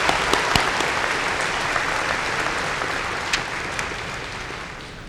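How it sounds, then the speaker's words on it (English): Audience applause for cum laude graduates at a 2011 fall university commencement, a steady, dense wash of clapping from a large crowd that holds for several seconds with no one speaking. "Let's give our cum laude graduates a applause."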